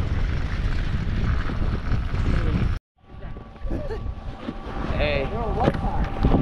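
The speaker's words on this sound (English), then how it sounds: "But it's windy, man." Strong gusts of wind buffet the microphone in Fernie with loud low roaring, briefly cutting out before returning, while voices talk in the background.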